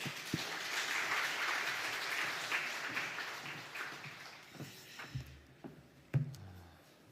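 A church congregation claps in a broad, sustained burst that gradually thins out, leaving a few scattered claps and thumps near the end.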